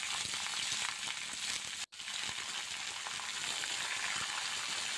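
Thinly sliced potato and sweet pumpkin with salt and turmeric sizzle steadily in a hot pan while being stirred, a constant close frying hiss with occasional soft scraping, interrupted by one brief cut.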